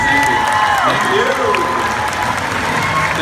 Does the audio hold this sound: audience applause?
yes